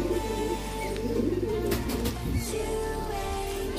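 Madras pigeons coo nearby in low, rolling, overlapping calls that carry on steadily without pause, with no voices over them.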